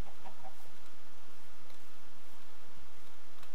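Chicken clucks in Minecraft version 1.8, a few short, soft clucks and ticks scattered over a steady background hum, with no speech over them.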